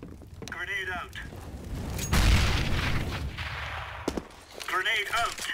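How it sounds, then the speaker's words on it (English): A loud, booming grenade blast in the video game CS:GO, erupting mid-clip with a heavy rumbling tail, between short bursts of radio-style voice chatter before and after. "Grenade out."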